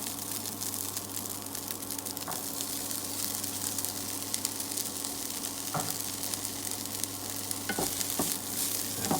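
Vegetables stir-frying in a pan for fried rice: a soft, continuous sizzle with a low hum beneath and occasional sharp scrapes and taps of a utensil against the pan, fairly faint throughout.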